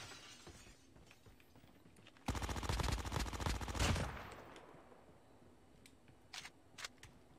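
A burst of rapid automatic gunfire during a downtown gunfight in a video game, a dense rattling volley lasting about two seconds, then a few scattered distant shots over quiet background ambience.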